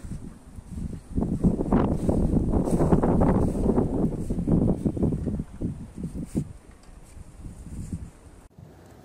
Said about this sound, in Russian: Налетел снежный ураган,